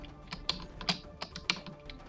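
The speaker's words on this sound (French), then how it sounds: "désolé si vous entendez le clavier" Computer keyboard typing during play of the video game Dust: An Elysian Tail, quiet irregular key clicks in a steady patter over soft game background.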